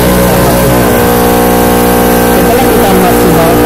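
A motorcycle engine runs loud and close throughout, a steady buzzing drone with slight revving variation, heard during a check of the bike's charging system.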